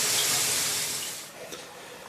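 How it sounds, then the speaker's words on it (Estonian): Cold tap water runs onto boiled quail eggs in a pot, a loud steady rushing stream that thins out and quietens toward the end. "Laseme külma vee siia peale."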